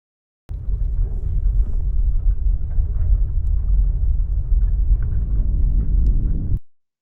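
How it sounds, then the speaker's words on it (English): A loud, steady deep rumbling bass tone plays alone for about six seconds, starting and stopping abruptly. "A deeper pitch will be a bassier sound"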